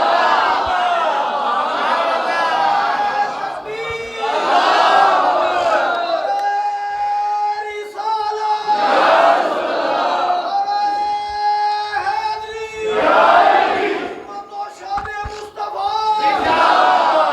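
A crowd at a religious sermon in Gujranwala shouts slogans in unison in response, loud massed voices rising in repeated bursts between a preacher's sung and spoken lines.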